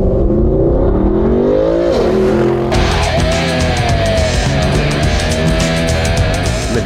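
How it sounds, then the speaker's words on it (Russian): A Mercedes-Benz SLS AMG sports car launches hard on a racetrack, its engine roaring loud and close with rising revs through a quick upshift, then climbing steadily again under sustained full throttle. "Автомобиль очень мощно стартует."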